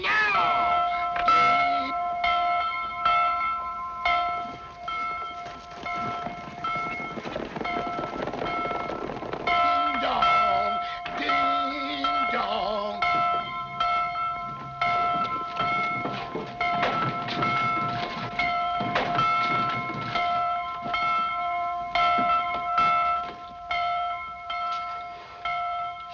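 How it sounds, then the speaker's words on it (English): A bell clangs over and over in an old 1942 Western film soundtrack, its ringing tones sustained throughout with rapid metallic strikes and some background clatter, loud and fairly close. "Ring the bell now."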